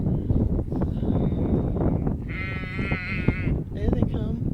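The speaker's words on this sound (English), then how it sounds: "And all the sheep are running up to the other ones." Sheep bleat in a wet field beside a canal near Gargrave, one loud close bleat in the middle and fainter calls around it, mixed with people talking and rain and wind noise.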